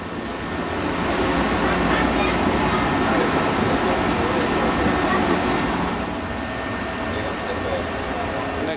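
Steady, loud rumble of an airport transit train at Heathrow Terminal 5, running throughout as a continuous roar with a faint whine and no speech over it.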